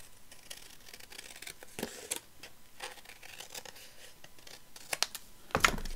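Scissors trim a piece of kraft paper for a ring binder, with quiet, close snips and papery rustles scattered unevenly and a sharper crinkle near the end.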